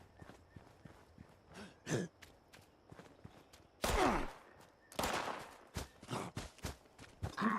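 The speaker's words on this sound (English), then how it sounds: "Shooting when I'm trying to listen." Scattered gunfire in Fallout 76: a few sharp, loud shots, some in quick pairs, break through quieter stretches of footsteps and movement noises.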